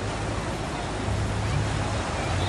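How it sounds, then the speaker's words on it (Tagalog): Ocean waves wash onto a white-sand beach near Puning Cave in Barangay Bayabas, making a steady, loud, unbroken roar of surf with no voices over it. "Natatakot ako sa alon."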